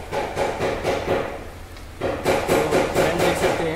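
Metal tools click and knock repeatedly while the timing cover bolts go onto a Maruti Suzuki S-Cross engine, making a steady rhythm of close, moderately loud taps and scrapes with a short pause midway.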